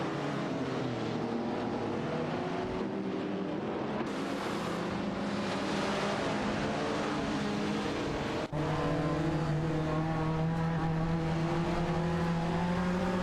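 Race cars in an AI auto racing game roar continuously, multiple engines layered with rising and falling pitch as they pass, loud and steady throughout with no talk.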